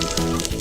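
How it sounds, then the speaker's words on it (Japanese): Beef searing in about a tablespoon of olive oil in a frying pan for a royal beef stew, a dense continuous hiss and crackle, close and fairly loud, lasting under a second with no talk. "こんな感じでね全体に焼き目をつけていきます"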